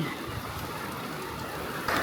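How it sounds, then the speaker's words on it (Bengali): Rain falls steadily on a festive Eid day, a soft continuous wash of drops heard at a moderate distance with no talk. "খুব সুন্দর বৃষ্টি হচ্ছে ঈদের দিন।"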